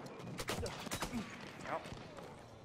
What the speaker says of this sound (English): they're shooting us from up top now